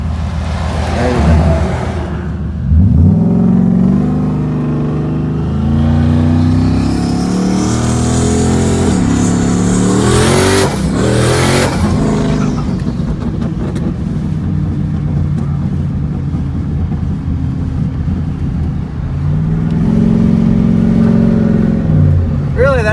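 A single-turbo Coyote V8 car with a 76mm turbo launches hard in first gear, its engine roaring loud and close as revs climb steeply, ease off, then rise again.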